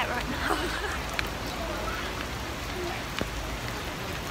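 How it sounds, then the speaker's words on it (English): Steady rain falls at an outdoor theme park in Florida, a constant close hiss of drops with faint crowd babble mixed in and a couple of brief taps. "It's raining!"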